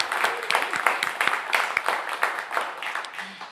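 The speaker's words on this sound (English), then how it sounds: "how about one more round of applause for Tom Hampton," Audience applause for performer Tom Hampton at a live radio show, a dense steady patter of many hands clapping close by, tapering slightly toward the end.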